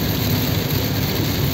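Heavy rain pours down as a dense, steady roar of close, loud noise that fills the whole stretch without any break, and nobody speaks.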